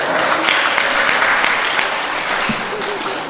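An audience claps for a school martial arts demonstration of a machete routine, a lively, dense burst of hands that carries steadily through a few seconds.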